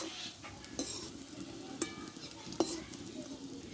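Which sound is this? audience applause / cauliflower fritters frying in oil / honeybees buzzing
cauliflower fritters frying in oil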